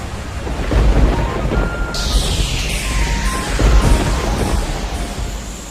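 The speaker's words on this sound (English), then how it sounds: "This thunder and lightning, what is it for?" Heavy rain hisses steadily while deep thunder rumbles loudly through it, swelling twice in long rolling booms.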